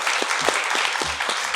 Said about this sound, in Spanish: Un aplauso para nuestras preguntas y respuestas.